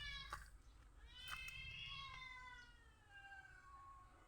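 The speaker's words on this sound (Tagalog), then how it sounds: "Tapos mga pusa nag-aaway." Several cats yowling and screeching at each other in a fight outdoors, drawn-out wavering cries rising and falling close by, with brief sharp spits over a low background rumble.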